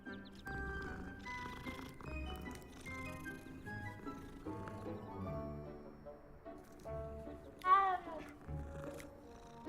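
Cats being petted in the Hogwarts Legacy video game: soft purring and a brief meow near the end, heard beneath steady background music.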